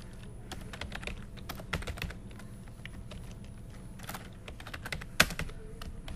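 Someone types a Fortran program on a computer keyboard in quick, uneven bursts of close, fairly quiet key clicks, with one sharper tap near the end and no talking.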